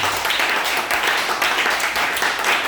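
A church congregation at a French-language service applauding together, a dense, continuous patter of many hands swelling in gentle waves, with faint voices mixed in.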